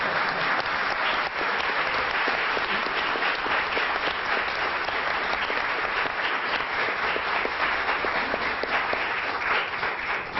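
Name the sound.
audience applause for Governor Cuomo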